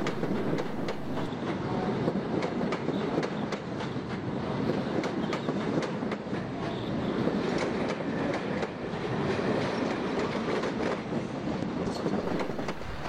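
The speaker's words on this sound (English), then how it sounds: "85007 propels a rake of Mark Is from Euston carriage sidings into the platform." Class 85 electric locomotive 85007 propels a rake of Mark I coaches out of the carriage sidings into a platform at London Euston in the 1980s, a steady loud rumble with clattering wheels and rail clicks throughout.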